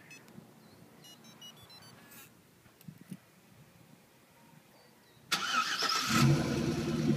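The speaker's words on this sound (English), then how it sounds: "Let's go for a little drive here." A car starts off after a quiet stretch with small clicks and beeps, then a loud, steady engine and driving noise fills the last two seconds.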